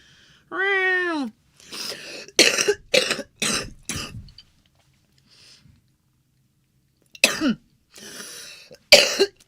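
A person coughs several times in short, harsh bursts, loud and close, with a cat meowing briefly at the start and a pause of near silence between the coughs.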